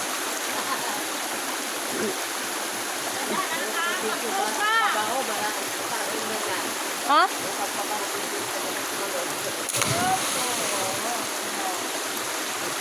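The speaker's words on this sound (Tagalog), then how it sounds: "Nandito kami ngayon sa talon." Talon Falls, a river waterfall and stream in Purok 8-C Dalandanan, rushes in a continuous broadband roar close by, with people talking and calling out over the water throughout.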